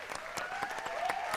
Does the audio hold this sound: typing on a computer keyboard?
no